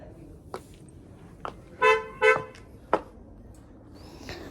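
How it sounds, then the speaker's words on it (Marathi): A few short, harsh honking calls, recorded animal sounds played through a loudspeaker in a field to scare off pigs, sound from a distance in two close bursts, with faint clicks between. "पाखरं वगैरे कसे आणतो तसा आवाज रेकॉर्ड केला आहे आणि तो रात्रभर लावतात"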